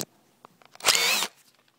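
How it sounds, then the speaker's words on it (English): A hammer drill bores through the lock of an arcade game or pinball machine in one loud, harsh burst of about a third of a second, after a few faint clicks and taps of handling. "And so we'll turn on the hammer and let's cut through this lock."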